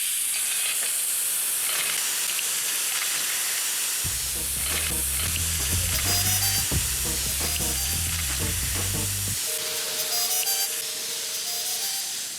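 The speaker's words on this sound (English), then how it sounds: "I love the way they kind of sizzle and then just give it up." Fresh mussels tossed in oil hit a hot outdoor grill with a loud, steady sizzle, joined midway by low clattering and rattling as the shells settle, then a bright, continuous frying hiss with no talking.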